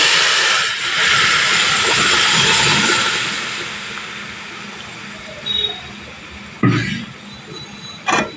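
Boiled mung dal poured into a hot pan of fried vegetables on a low gas flame gives a loud, steady hissing sizzle that slowly settles, with a few sharp utensil clatters near the end.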